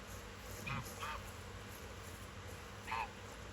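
Geese honk in a hunting video game, three distinct nasal calls spaced across a steady ambient wash, moderately distant.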